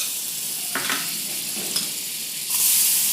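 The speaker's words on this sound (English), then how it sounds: "The pan is hot, some oil as usual, and some butter." Oil and butter sizzle in a hot pan as masala for pav is started, a steady close hiss with a couple of stirring scrapes, and the sizzle swells louder near the end.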